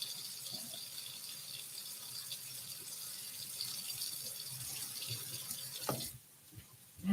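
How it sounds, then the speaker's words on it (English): Tap water running into a kitchen sink while hands and a cutting board are washed, a steady hiss of flowing water with light clatters, stopping near the end, no speech. "Wash my hands. Wash my board."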